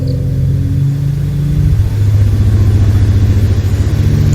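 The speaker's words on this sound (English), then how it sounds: "That's a Tyrannosaurus Rex." Deep, loud rumbling vibration from a Tyrannosaurus Rex, a low throbbing drone that swells and pulses rhythmically near the middle and keeps on steadily, with no voices.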